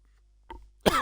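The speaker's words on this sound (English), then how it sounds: "That was a mixture between a cough and a sneeze." A single person's cough-sneeze hybrid bursts out loud and close, preceded by a shorter, softer breathy sound, with no talking.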